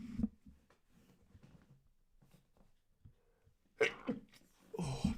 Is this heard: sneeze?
yes